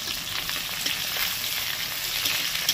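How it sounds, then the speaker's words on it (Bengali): Coconut, green chilies and banana flower frying together in a pan give a steady, close sizzle with a soft crackle. It holds level for the whole stretch, with no voices over it. "নারকেলও দিয়ে দিলাম। সবকটা একসাথে ভেজে করবো"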